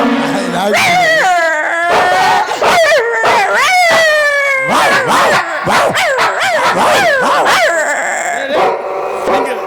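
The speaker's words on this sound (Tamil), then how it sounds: "நாய்?" Dogs howl, whimper and yelp loudly in long wavering cries that overlap and rise and fall almost without pause, with voices mixed in.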